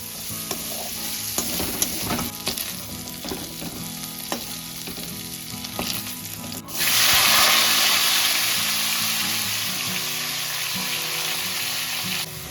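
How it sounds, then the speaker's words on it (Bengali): Chicken frying in oil, with scraping and stirring clatter at first, then a sudden louder, steady sizzle that continues to the end. "নিজের জলে নিজে সেদ্ধ হবে এবং তেল ছেড়ে নিজেই ভাজা ভাজা হবে"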